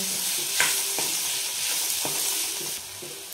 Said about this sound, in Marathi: ह्यामध्ये आपल्याला आता मुळा टाकून घ्यायचा आहे। छान मिक्स करून घ्यायचा आहे एकदम।